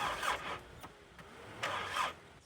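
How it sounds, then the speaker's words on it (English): A car that was sunk in a lake, hooked to a jump pack, cranks over without catching: two short, faint cranking bursts with quieter mechanical noise between them, and no voices. "So I'm gonna put a jump pack on it, see if I can get this thing to start up"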